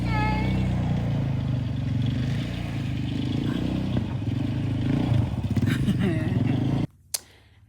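A motorcycle engine rumbles by outside on a cold, snowy day in North Carolina, mid-distance and droning with a slight rev, while a person talks over it before the sound cuts off abruptly.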